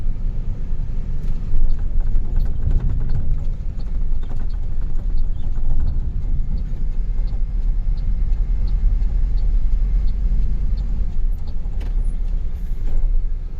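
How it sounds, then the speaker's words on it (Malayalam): Road traffic on Hosangadi bridge on the NH66 highway under midday sun, a steady loud rumble of passing vehicles with continuous engine and tyre noise and no clear breaks. "ഒസങ്കടി പാലത്തിൻ്റെ മുകളിലൊക്കെ ഇപ്പോഴും നല്ല തിരക്കാണ്."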